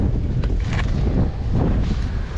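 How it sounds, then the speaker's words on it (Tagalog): Strong typhoon wind in Taiwan buffets the microphone in loud, rumbling gusts that swell and ease over a couple of seconds, with no other sounds standing out. "Malakas pa yung hangin."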